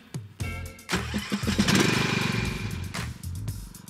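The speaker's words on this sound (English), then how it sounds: "My go-to in this instance is a ride-on mower." A Rover Rancher 36 ride-on mower engine cranks over and starts, then settles into a loud, steady motor drone close by, with a few throttle dips toward the end.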